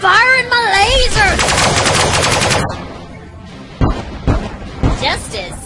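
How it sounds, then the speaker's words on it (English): Rapid laser weapon fire in the Sunrider space strategy game, a dense buzzing burst of repeated shots lasting a few seconds, followed by scattered impact bursts, with a voice talking over the start. "I'm firing my laser!"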